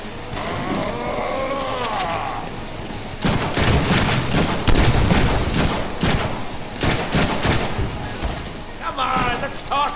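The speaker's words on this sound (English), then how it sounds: "But first I shoot him with this gun first." Gunshots in the action game Deadpool ring out as a loud, rapid volley of close shots and impacts over busy game noise, following a quieter stretch where a voice talks.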